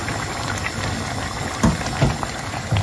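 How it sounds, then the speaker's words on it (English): Meat fries in a pot as the base for Ghanaian waakye stew, a steady close sizzle and bubble with a few soft thuds and stirs breaking through. "Our meat is ready, so we are going to fry it"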